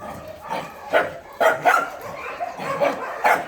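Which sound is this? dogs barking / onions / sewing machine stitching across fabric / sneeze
dogs barking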